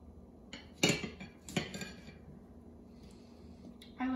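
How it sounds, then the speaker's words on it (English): Apples are sliced and the slices placed into a pan for apple crisp, bringing a couple of sharp clinks of a knife and dish on a quiet counter, then soft handling sounds. "So we're gonna go ahead and just slice these."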